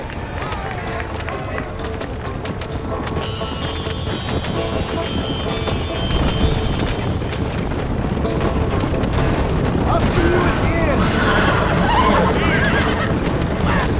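Horses whinny and hooves pound in a rapid galloping rhythm in the video game Red Dead Redemption, with game-style effects and a voice speaking briefly over the action.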